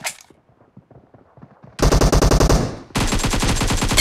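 Rapid automatic gunfire in PUBG Mobile starts as a soft distant rattle, then a loud close burst of evenly spaced shots, a brief pause, and another dense sustained volley.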